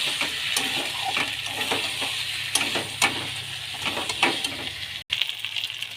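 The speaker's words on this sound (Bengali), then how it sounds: "এবার ভেজে রাখা আলুগুলো সব দিয়ে দিচ্ছি" Fried potatoes tipped into a pot of cooked-down mutton curry sizzle steadily, with scattered stirring clinks and scrapes against the pot and a short break near the end.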